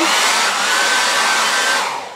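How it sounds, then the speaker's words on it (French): A cheap hotel hair dryer blows with a loud, steady whooshing hiss and a faint motor whine, running continuously and close up, easing slightly at the very end. "C'est un sèche-cheveux d'hôtel."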